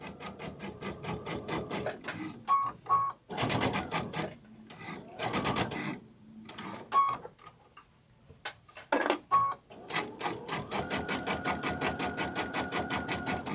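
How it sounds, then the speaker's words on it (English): A sewing machine stitches along a drawn line on a sunflower wall hanging, its rapid even needle chatter running in several bursts broken by short pauses, close and steady. "I'm just sewing right on that drawn line that we drew."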